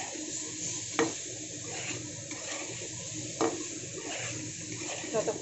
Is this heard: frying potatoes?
yes